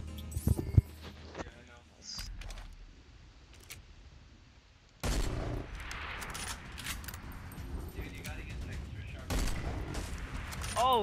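A hunting rifle fires in the video game Deer Hunter 2017: a sharp shot near the start, then louder, busier game sounds with further sharp cracks around the middle and later on.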